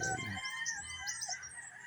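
A rooster crows at the start, a harmonic call that breaks off quickly, followed by a background of chirping birds and faint outdoor ambience.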